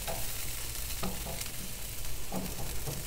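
Garlic cooking on an outdoor smoker gives a steady, dense sizzle that stays close and even throughout, with a few faint clicks and pops scattered on top.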